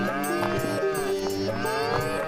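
Pair of cartoon bulls lowing in a short, loud, drawn-out moo with wavering pitch, heard alone without any voices.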